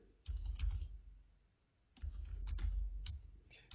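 Quiet, close clicking of a computer keyboard being typed on in two short bursts of keystrokes, with a brief pause between them and no talking.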